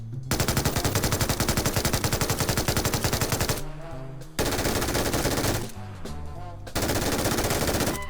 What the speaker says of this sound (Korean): MG3네 MG3? 한번 써보자 엎드려 쏴!